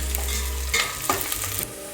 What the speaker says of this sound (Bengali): চিকেনটা এই তো তেলের মধ্যে পেঁয়াজ দিয়ে দিয়েছি বেরেস্তার মতো ভেজে নিচ্ছি একদম লাল লাল করে